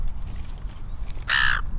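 A single crow caws once, loud and near, toward the end, over a low outdoor rumble at a riverside fish and chips shop in Chinderah, New South Wales.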